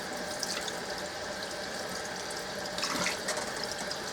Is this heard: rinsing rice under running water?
yes